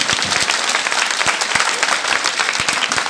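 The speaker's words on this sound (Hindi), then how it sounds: "उन सबके लिए एक बार जोरदार तालियां बजाएं" Audience applause for Ramleela performers at an outdoor stage event, loud, dense clapping sustained throughout.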